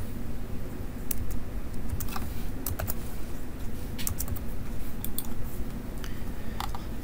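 Typing notes on a computer keyboard while preparing an engineering drawing for a lathe project, a steady run of light, irregular key clicks over a low background hum, close and without talking.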